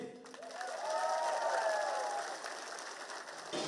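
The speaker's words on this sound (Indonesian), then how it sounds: "Kita beri tepuk tangan sekali lagi." A crowd at a campaign rally in West Kalimantan applauds, a soft, distant wash of clapping with a faint tonal sound mixed in, fairly quiet throughout.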